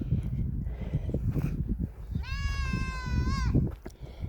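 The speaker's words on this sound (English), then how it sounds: "there's our breeding buck over there making noise" A breeding buck goat lets out one long, wavering bleat of about a second, somewhat distant, over outdoor wind and rustling noise at a farm with livestock nearby.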